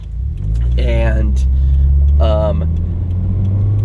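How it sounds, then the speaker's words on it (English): Exhaust of a 2016 Subaru WRX STI, a deep steady idle rumble that swells slightly near the start and holds, with someone talking briefly over it. "STI exhaust from Subaru"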